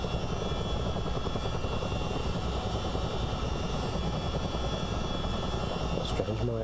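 A Chinook CH-47 helicopter engine in Microsoft Flight Simulator drones as a steady, loud rotor-and-turbine hum throughout, with a person talking over it.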